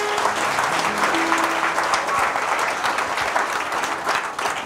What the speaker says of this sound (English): Clap for Jesus very well.